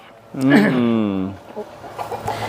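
A chicken on a Canadian farm that keeps many kinds of birds gives one drawn-out, wavering call lasting about a second, close and fairly loud, followed by quiet background with faint small sounds.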